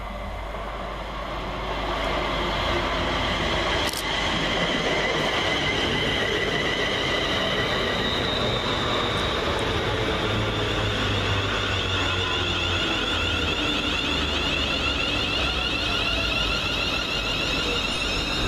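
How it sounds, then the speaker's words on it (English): Several Class 350 electric multiple units arriving at Watford Junction station, a steady rolling rumble with a rising wheel whine and faint high squeals, heard from the platform with no talk. "Just arriving now at Watford Junction, 350 103, 350 116 and 350 242"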